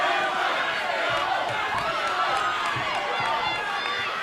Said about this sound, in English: I don't know if you guys can hear the crowd, but this is crazy.